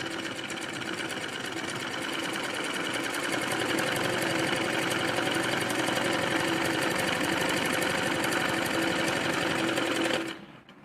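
A sewing machine runs steadily while stitching a salwar, a continuous loud whirring hum that holds for about ten seconds before stopping abruptly.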